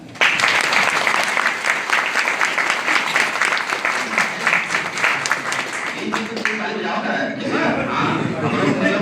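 Audience applause at a hospital training session, dense steady clapping from a roomful of people that fades toward the end, with a voice speaking as it dies down.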